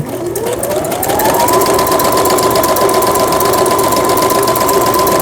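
Brother Chariot 550 domestic sewing machine, a Japanese-market model under repair, running a straight stitch at 4 mm stitch length: a loud motor whine rises in pitch over the first second and then holds a fast, steady, mechanical needle clatter.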